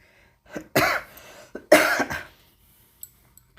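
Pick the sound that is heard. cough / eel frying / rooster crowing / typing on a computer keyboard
cough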